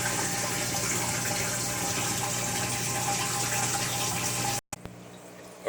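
An aquarium tank filled with water over black blasting sand substrate, a loud, steady rush of pouring water that stops abruptly near the end, leaving a quieter background.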